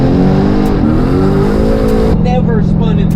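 A turbocharged car, an engine found to have been running on only seven cylinders, accelerates hard in third gear, its loud, close roar climbing steadily in pitch before abruptly changing character near the end, with no talking over it.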